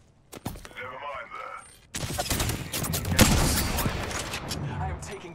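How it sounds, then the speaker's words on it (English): Apex Legends gunfire: a few sharp shots, then a dense, loud volley of rapid fire with crackling impacts and shield noises, while a voice speaks. "I am taking fire."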